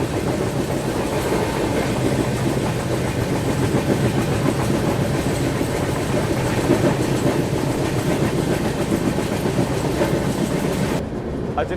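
The Rapti Sagar Express passenger train, running late, pulls slowly out of a station near Nagpur with a steady close rumble and rhythmic wheel clatter that continues throughout.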